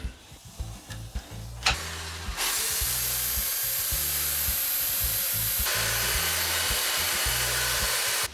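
A power sander grinds steadily along the wooden edge of a door being trimmed to fit a gap, a loud continuous abrasive whir close by after a few quieter knocks and scrapes.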